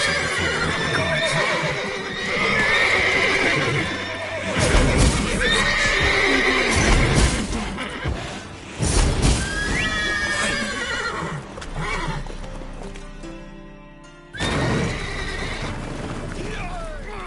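In The Witcher 3, several horses whinny and neigh loudly over clip-clopping hooves, with bursts of commotion and a brief quiet gap before the noise resumes.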